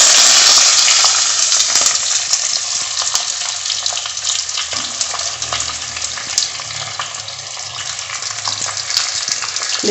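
Masala-coated fish pieces and tamarind cook in a pan, giving a steady close sizzle and frying hiss with occasional utensil taps and scrapes, loudest at the start and easing slightly after.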